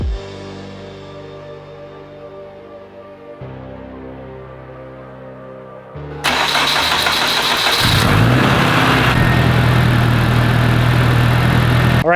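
A car engine is cranked and fires up about halfway through, settling into a loud, steady idle that rises slightly in pitch, with no one speaking.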